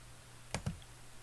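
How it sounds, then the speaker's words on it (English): Two quick, crisp computer mouse clicks in FreeCAD, close and quiet, set against a faint steady hum, with no talking. "I'm going to click on this face"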